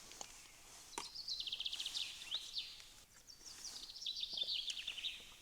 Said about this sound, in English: Birds are wilding.